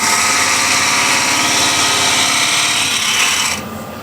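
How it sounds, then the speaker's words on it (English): A spindle gouge cuts a dovetail on a wooden bowl turning on a lathe, producing a loud, continuous rasping shave with a rapid fluttering texture that stops abruptly near the end, leaving a quieter motor hum. "with the spindle gouge, because it has more of a sharper point on the nose, I'll cut nice a little dovetail"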